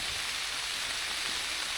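Heavy rain falls steadily and hard outdoors at a scenic spot, a dense, continuous hiss of drops with no pauses and no voices.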